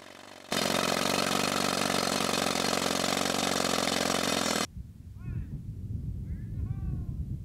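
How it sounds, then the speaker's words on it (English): A loud, steady old Joy pneumatic rock drill, older than World War II, roars for about four seconds at a mine, then cuts off, leaving outdoor ambience with birds calling. "We're using an old Joy rock drill."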